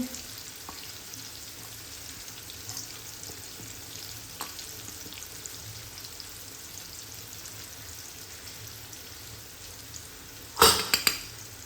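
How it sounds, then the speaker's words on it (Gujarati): Spice masala being stirred in a frying pan for a Gujarati galka (ridge gourd) curry with gram flour, a steady soft sizzle with light scraping throughout, ending in a brief louder clatter near the end. "હવે જે આ મસાલો છે એ બધો જ આપણે મિક્સ કરી દઈશું."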